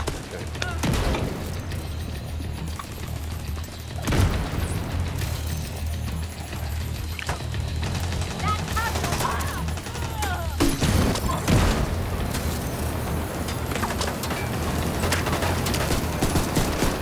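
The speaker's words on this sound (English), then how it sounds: "He's got a grenade launcher." Heavy booms from a grenade launcher cut through sustained gunfire during a Division 2 mission, with several deep thumps standing out over a dense, constant din of shooting. Voices talk over the fighting.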